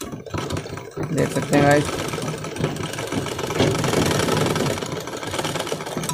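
An umbrella-type sewing machine that is skipping stitches and sewing very long, uneven stitches runs with a steady mechanical chatter throughout, mostly under a voice speaking over it.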